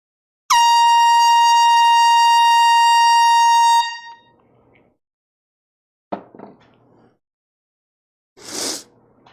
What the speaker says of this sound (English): We're about to blow an air horn, okay?